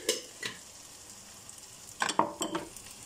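Sesame seeds heat in a frying pan beside vegetarian cabbage rolls and patties, a soft sizzle under a few scraping stirs with a utensil, louder stirring bursts toward the end.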